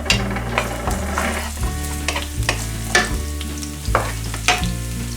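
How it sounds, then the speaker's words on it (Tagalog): Garlic sautés in about a tablespoon of oil with a steady sizzle. A spatula stirs and taps the pan in regular knocks beneath a low hum, and no one speaks. "now let's start sauteing our other ingredients"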